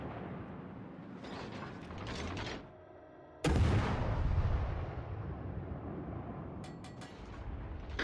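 Heavy naval guns firing in a battleship combat game, a single deep booming salvo that rolls and decays over several seconds, set against a low rumbling background with faint mechanical clicks.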